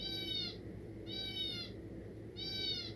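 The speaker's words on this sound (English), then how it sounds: "I guess you hear the birds singing along with me." Three evenly spaced high, tonal calls ring out over a low steady background hum, each lasting about half a second.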